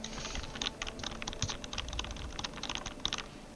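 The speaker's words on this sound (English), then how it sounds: "click-clacking away on the keyboard there" Rapid, irregular clicking of keys on a computer keyboard, a steady run of close, crisp keystrokes with no voices over them.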